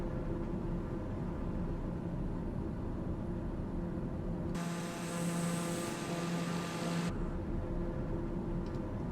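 A turboprop airplane climbing in a flight simulator game holds a steady engine drone with tonal hum. A brighter, hissier burst midway lasts a few seconds, and there is no talk.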